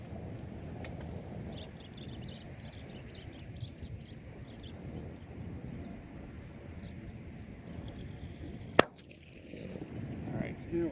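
A single sharp crack from a Marlin XT-22 .22LR rifle firing CCI Stinger rounds outdoors, one loud shot near the end over a steady low rumble of wind or distant engine noise.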